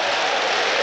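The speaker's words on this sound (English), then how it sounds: "And now it's the Manchester United fans who are chanting and cheering" Manchester United fans in a stadium crowd at a football match against Brighton & Hove Albion, a dense, loud wash of cheering and noise filling the whole brief moment.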